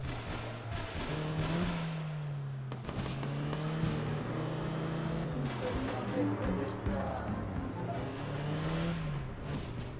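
Race cars in the APB Reloaded video game roar steadily, their engines revving up and down in continuous wavering pitch sweeps with occasional tire noise.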